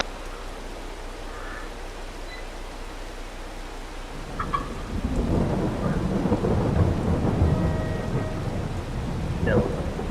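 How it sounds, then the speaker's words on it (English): Rain in the Farming Simulator 22 video game, a steady wash of rainfall that swells into a heavier downpour with low thundery rumble, and faint bird calls here and there. "Damn rain."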